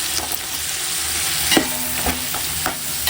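Onions sautéing in a pan with ginger, garlic, mint and coriander for a Bakrid mutton dish, a steady soft sizzle broken by a handful of sharp spoon scrapes and clinks at irregular intervals, close and with no talking.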